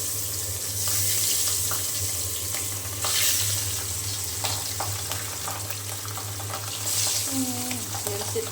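Fish coated in turmeric and salt fries in hot oil with a loud, continuous sizzle and sharp spatters of splashing oil over a low, steady hum.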